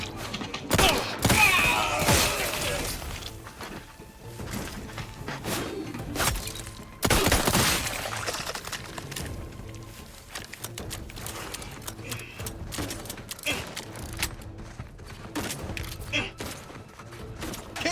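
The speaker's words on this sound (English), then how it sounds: "Just shoot in the thin air." Bursts of gunfire in The Outer Worlds 2, sharp repeated shots in irregular clusters with a heavy volley near the start and scattered cracks later, mixed with game clatter and voices talking.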